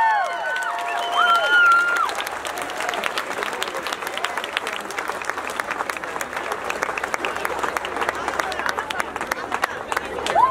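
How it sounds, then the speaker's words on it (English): An audience claps and cheers at a charity event, sustained dense applause with a few whoops early on, filling the room steadily for about ten seconds. "can everyone clap their hands?"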